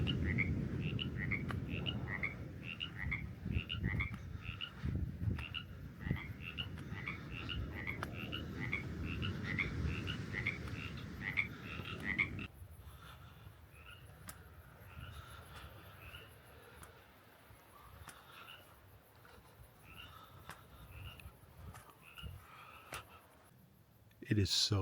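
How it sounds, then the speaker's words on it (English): Frogs croak in a steady rhythmic chorus on a dark Big Sur beach at night, a dense overlapping chatter that drops to a thinner, quieter scattering of calls partway through, with a low rumble of surf or wind underneath. "You can hear the frogs."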